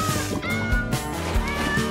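A cartoon cat meows over busy background music, giving a few short whiny cries in quick succession.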